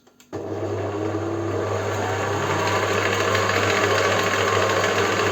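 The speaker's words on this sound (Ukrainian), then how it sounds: "я маю нині домашні вершки, і я буду збивати е, вершки" An electric mixer whips homemade cream with sugar, starting abruptly after a brief pause and then running as a steady, loud motor whir with a strong hum. It continues unbroken and alone to the end.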